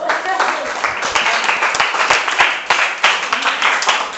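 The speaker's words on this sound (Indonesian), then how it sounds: "Tepuk tangan untuk Mas Haifa." A classroom group clapping steadily for a few seconds, dense and fairly loud, with a faint voice or two mixed in.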